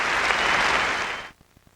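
An arena crowd in Albany applauds a young figure skater at a 1995 skating show, with dense, loud clapping that abruptly dies away after about a second.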